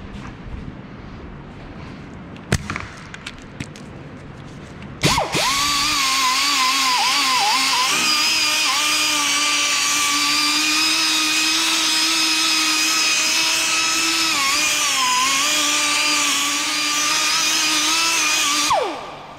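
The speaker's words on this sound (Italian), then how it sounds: "gli diamo una bella spazzolata anche qua davanti" A power brush scrubs an Audi A4 B8 front brake caliper in a workshop. After a few brief knocks, a high, steady whirring runs for about fourteen seconds before cutting off.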